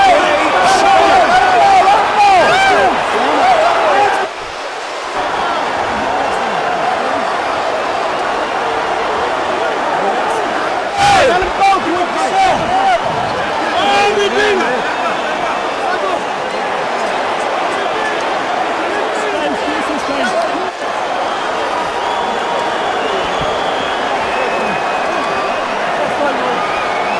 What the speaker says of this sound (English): A stunned crowd here at the MCI Center in Washington